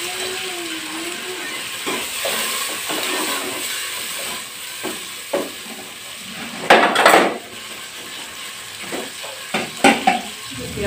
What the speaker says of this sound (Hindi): अब देखिए मेरा गर्म हो गया, मैं डालती हूँ इसमें प्याज पके हुए